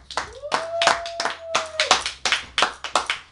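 Audience hand claps for a DJ on a live street radio show, a loose run of separate claps in a steady rhythm, fairly close, with a sustained tone running through the first two seconds.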